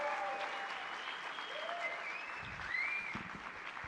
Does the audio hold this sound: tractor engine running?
no